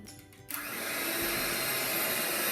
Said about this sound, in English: now we need a mixer